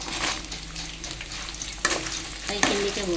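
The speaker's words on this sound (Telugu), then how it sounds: "యాభై గ్రాముల అల్లం యాభై గ్రాముల ఎండుమిర్చి వేసి ఫ్రై చేసుకోవాలి" Garlic, dried red chillies and ginger frying in hot oil with a steady, close sizzle, broken by a few sharp scrapes of a spoon stirring the pan.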